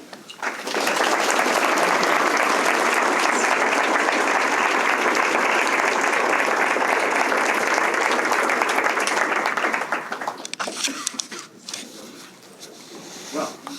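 An audience applauds a guest speaker at a lecture series, a loud, sustained roar of many hands clapping that fades out after about ten seconds into a few scattered claps and murmurs.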